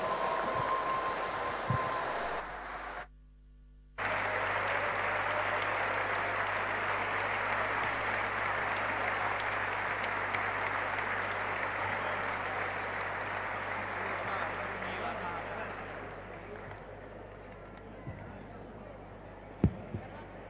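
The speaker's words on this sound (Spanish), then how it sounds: "Fuerte el aplauso para ellos." An audience at a political event in Rosario, Argentina, applauds two arriving speakers. A broad, sustained roar of clapping and crowd noise runs for about twenty seconds, dips briefly early on, then slowly fades with a few sharp knocks near the end.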